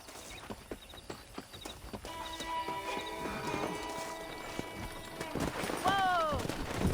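Horse hooves clip-clop in Red Dead Redemption during a horse-wrangling scene, light steady steps under game ambience with people talking, and a sharp whinny near the end.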